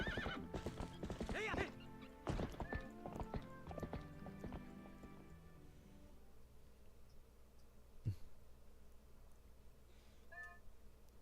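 A video game horse whinnies loudly at the start, with clip-clopping hoofbeats and other game sounds that fade into quieter ambience, plus a brief bump and a faint later call.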